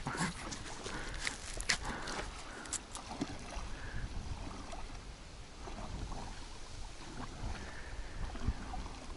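Small oars dip and pull an inflatable boat through water outdoors. Soft irregular splashes and knocks sit over a faint wind-like hiss, fairly quiet and close, with no speech.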